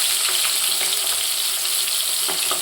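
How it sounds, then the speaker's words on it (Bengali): Small freshly caught pond fish (chara pona) fry in plenty of oil, a dense, loud, unbroken sizzle with faint crackles and an occasional light stir, no one speaking. "এখন ওই মাছগুলো ভাজা চলছে, তেলে পুরো ফ্রাই করতে হচ্ছে।"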